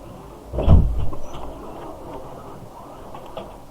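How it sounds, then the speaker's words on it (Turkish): A door opening in the Minecraft video game: a single short creaking thud, followed by faint background noise, with no speech. "Oğlum yine kapıyı açtılar var ya ses geliyor."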